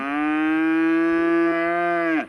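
One long, loud moo from a year-old calf calling for its mother, held steady for about two seconds before trailing off abruptly, close to the listener.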